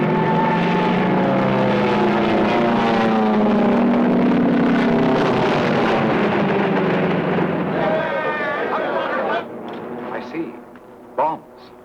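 A squadron of propeller aircraft drones loudly overhead for about nine seconds, the engine pitch slowly shifting as they pass. The noise then fades out under some brief voices and clatter, with the sound quality of a 1940s film.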